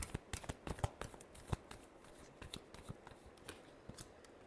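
Tarot cards being shuffled for a reading, a run of quick crisp riffling flicks and soft taps, close and fairly quiet, with no voices.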